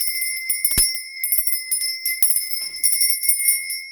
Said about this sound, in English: I'll be ringing my bell in 3, 2, 1.